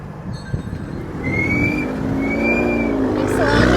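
An Infiniti car with a high roof runs after a jump start, its engine a loud, steady, noisy drone close by, with people talking over it.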